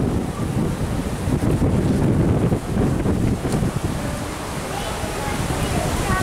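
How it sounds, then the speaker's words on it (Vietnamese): Strong wind and rough waves on a boat in Hong Kong, giving a constant loud roar of gusts buffeting the microphone over the churning water. "sóng gió quá trời luôn."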